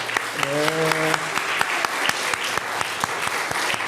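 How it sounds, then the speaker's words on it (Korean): A Korean church congregation at a Sunday worship service claps together in a warm, steady round of applause, many hands filling the room, with a voice briefly sounding early on. "우리 박수로 한번 향하겠습니다."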